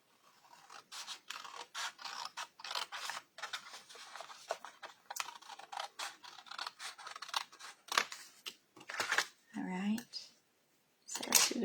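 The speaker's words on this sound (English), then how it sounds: "We're just going to cut across there with our scissors." Quiet, steady snipping of scissors, a rapid run of crisp cuts that slows near the end with a few scraping sounds.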